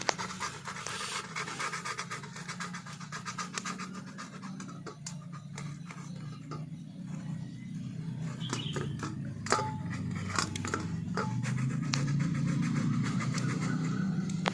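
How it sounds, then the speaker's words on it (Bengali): Boiled egg and potato rubbed over a hand grater, giving quiet, rhythmic rasping strokes that repeat steadily against faint background noise, with no speech. "এরপর এরকম একটা গ্রেটারের সাহায্যে আমি ডিম আর আলুটাকে গ্রেট করে নেব"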